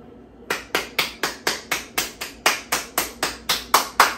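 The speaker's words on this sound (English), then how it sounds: "I'm gonna do some clapping" Hands clapping in a steady, even rhythm, about sixteen sharp claps spaced roughly a quarter second apart, close and clear with nothing else heard.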